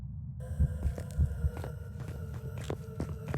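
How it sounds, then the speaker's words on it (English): A ghost hunt sound in the video game Phasmophobia: a low, throbbing heartbeat-like pulse with a dull hum, steady and close, sounding ominous and tense. "It's the same hunting sound that the ghost made before."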